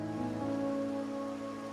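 Steady rain falls in a quiet scene from the video game Wuthering Waves, an even, soft patter heard alone with no voices over it.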